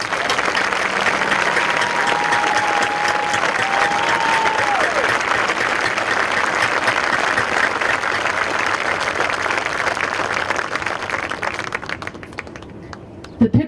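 Sustained applause from a crowd, dense and steady clapping throughout, with a brief voice early on before fading near the end.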